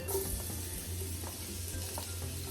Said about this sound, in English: Now we'll be sauteing our garlic and pimento seed.